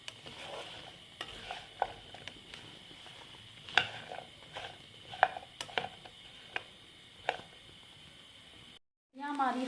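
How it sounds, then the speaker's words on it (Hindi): Okra (bhindi) cooking in a little oil in a pan, a quiet background sizzle broken by sharp, irregular clicks and scrapes of stirring, with a brief gap near the end. "भिंडियों को पहले हम थोड़ा सा पकाएंगे ताकि थोड़ी ऑयल में भून लेंगे"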